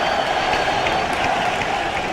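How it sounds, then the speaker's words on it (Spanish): A massed crowd in Havana's Plaza de la Revolución applauds, a steady wash of distant clapping that stays even and unbroken throughout. "ante el aplauso emocionado del pueblo congregado aquí en la Plaza de la Revolución José Martí"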